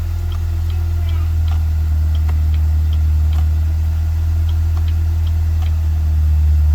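Steady turn signal ticking inside a 2006–2010 Saturn Sky / Pontiac Solstice after a signal switch replacement, an even rhythmic click over a loud low engine idle hum.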